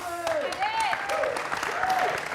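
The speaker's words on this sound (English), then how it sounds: "Please give a warm round of applause." Audience applause during the trophy and cheque presentation at the FIFA eNations Cup final, a steady wash of clapping with voices and rising, whistle-like tones over it.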